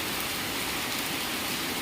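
Steady, dense rain pours down outside a Shiva temple, a continuous close hiss with no breaks and no voices.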